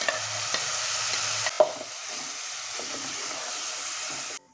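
Tomato paste is stirred into cluster bean curry frying in a pan, giving a steady close sizzle and hiss with a few scraping stirs of the spoon, no talking.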